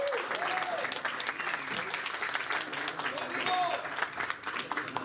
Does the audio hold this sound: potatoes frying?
no